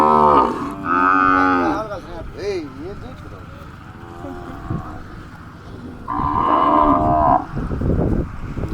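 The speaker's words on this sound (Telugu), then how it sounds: "మొత్తం ఆవులేనా ఇవి" Desi cows in a village farm herd of about thirty moo loudly and close by, with long drawn-out calls near the start and again later, as people talk over and between them.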